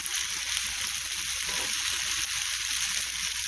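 Chicken pasta sauce simmering in a pan gives a steady, even sizzle and hiss that holds at the same level throughout, close by, with no voices over it.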